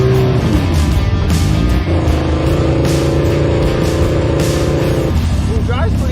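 A monster chopper and a Hayabusa-powered solo car rumble past a driveway, their steady engine drone holding a sustained tone over a constant outdoor wash with voices nearby.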